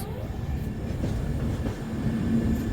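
Low, steady rumble of the Mahakaushal Express rolling into Agra Cantt station, a continuous rail drone with faint squeals, no voices.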